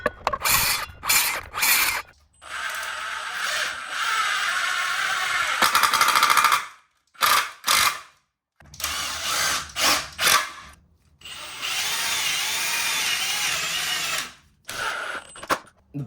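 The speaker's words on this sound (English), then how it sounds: "I'm going to put one side back on and drive the screw through that" Power drill driving a screw through a spacer into wood while building a photogrammetry turntable, whirring in several bursts of varying length with short stops between, close and loud, no talk.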